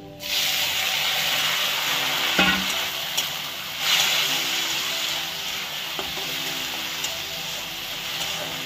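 Tomatoes go into a pan of browned onions frying in oil, setting off a loud, steady sizzle with a sharp hiss and stirring scrapes on top, close up and with no talk.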